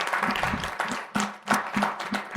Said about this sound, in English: Just one more round of applause for Deb and Jim.